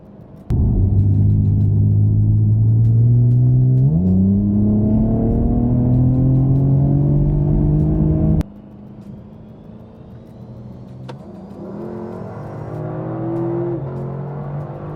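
A 2023 Lexus LC500 and an Infiniti Q60 Red Sport accelerate hard in a roll race from speed: a loud, close engine roar climbs steadily in pitch, steps through a gearshift, then drops sharply to a quieter cruising hum that rises again.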